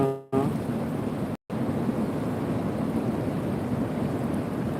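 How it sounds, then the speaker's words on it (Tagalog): Sea waves rolling in on a shore, a steady broadband wash with wind buffeting the microphone, continuous and fairly loud, briefly cut out twice near the start. "ang ingay talaga ng dagat"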